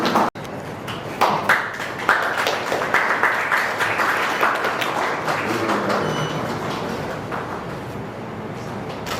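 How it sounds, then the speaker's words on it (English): Audience applause at a medical association branch inaugural meeting, a full steady round of clapping from a hall crowd that begins abruptly and gradually thins toward the end. "I am presenting Dr. S. R. Rajagopalan sir for your kind applause from my side"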